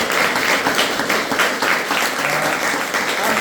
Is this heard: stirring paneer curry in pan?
no